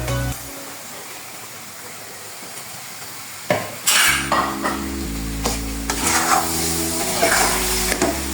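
Olive pickle stirred in a pan, scraping and clattering close by, with a gentle hiss underneath and a steady low hum starting partway through.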